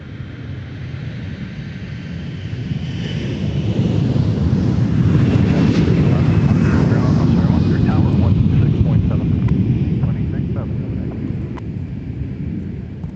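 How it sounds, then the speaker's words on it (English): A KLM Boeing 787-9 Dreamliner jet airliner at MSP airport, pushing back from a Concourse G gate, fills the air with a broad, rumbling jet roar that swells to a peak midway and then slowly eases off. "KLM pushing back into frame from its gate at Concourse G. Off to Amsterdam Schiphol with the"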